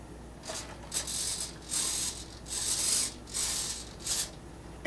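Small RC airplane servos whirring in short bursts as they swing the rudder, elevator, ailerons and flaps, each buzz starting and stopping in a quick back-and-forth rhythm, close and fairly quiet with no talking.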